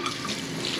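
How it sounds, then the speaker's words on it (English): Hot water runs steadily from a tap into a utility sink holding a bicycle wheel, a close, continuous splashing rush with no pauses. "We got this wheel in the utility sink here, and we're going to turn on some hot water"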